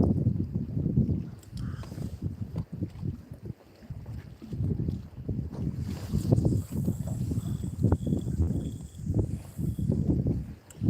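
Gusty wind buffets the microphone outdoors on the coast at Valentia while sea fishing from a rail, a steady low rumble with surging gusts throughout and no speech.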